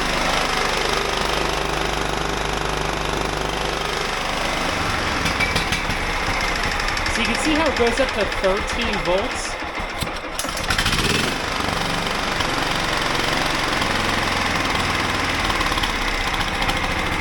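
A John Deere tractor mower's replacement engine runs loud and steady at close range, a rough, knocking drone throughout with a brief voice talking faintly beneath it.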